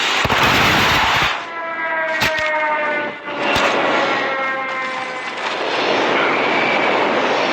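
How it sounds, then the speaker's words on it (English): A friendly airstrike in Call of Duty, with loud jet engine roar sweeping over, a sustained whining drone, sharp cracking impacts in the middle, and the roar swelling again at the end. "Friendly airstrike incoming."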